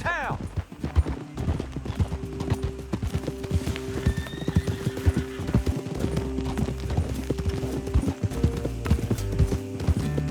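Horse hooves clop in quick rhythm in the video game Red Dead Redemption 2 as riders move together, with occasional neighs and voices talking over the steady galloping.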